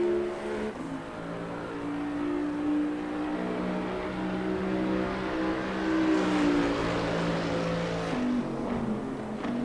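Race car engines in Assetto Corsa Competizione at Silverstone, a steady blend of several cars droning and revving together with shifting pitch, loud and continuous throughout.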